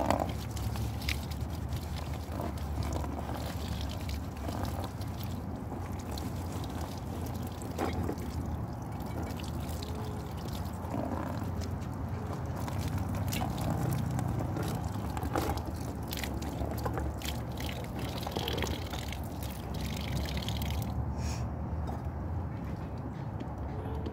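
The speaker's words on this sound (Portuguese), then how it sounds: "agora eu vou aproveitar para lavar a loucinha também" Dishes are washed outdoors beside a Kombi van, with faint water trickling and dripping plus occasional small clinks over a quiet, continuous background, and no one speaking.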